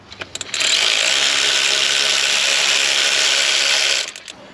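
A ratchet drives down the center alternator bolt on a third-generation Mitsubishi Montero, giving one continuous, close, loud mechanical whirring run of about three seconds with brief clicks before and after.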